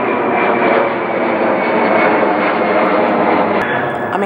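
An airplane passes overhead. Its loud, steady jet roar fills the whole stretch without a break.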